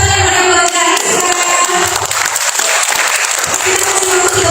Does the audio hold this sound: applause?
yes